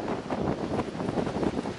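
Strong wind buffets the microphone outdoors on a pike fishing trip, a steady, loud, rough rumble that fills the whole moment with no talking.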